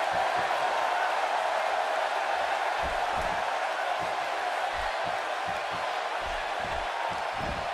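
Arena crowd noise from the WWE 2K18 wrestling video game during a women's match in Albuquerque, a steady loud roar with scattered thuds and impacts underneath throughout.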